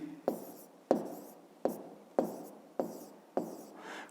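A pen writes on paper in six distinct strokes, each a sharp scratchy onset fading out, spaced about half a second apart, close and fairly quiet, during a fifth-grade maths exercise.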